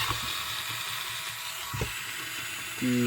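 Cooling fan in a Chinese TATALIKEN 4000W inverter under repair whirs steadily and close up, a constant rushing hum broken by a couple of faint clicks.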